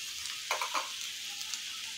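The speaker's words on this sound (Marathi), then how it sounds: "आता ही मिरची पावडर थोडीशी परतून घ्यायची" Chili powder briefly fried in oil for a Maharashtrian katachi amti, a faint soft sizzle with a couple of quick stirring scrapes in the middle.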